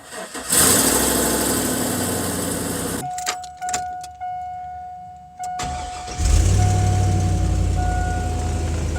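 2002 Chevrolet Avalanche after a new exhaust install, keys jangling and the engine cranking and catching close by, then settling into a loud steady idle rumble.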